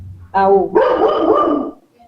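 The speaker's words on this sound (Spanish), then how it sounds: "No puedo con el perro ladrando." A dog gives a loud, close bark followed by a longer, rough growling bark, then falls quiet.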